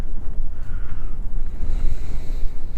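Strong gusting wind buffets the microphone while fishing from a boat, a loud, rumbling roar that surges and dips with the gusts, with water noise underneath and no talking.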